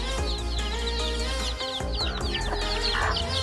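Backyard chickens and chicks near a bamboo coop cluck and cheep in repeated overlapping calls, close and fairly loud over a steady low hum.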